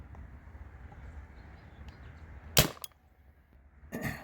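A Spyder Rodeo paintball marker fires a single sharp pop, followed by a smaller crack and then another burst of noise near the end, heard over a quiet background hiss.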